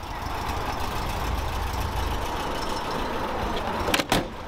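A FIAT 125 car engine driving, a steady close rumbling drone throughout with a brief louder clunk or knock near the end.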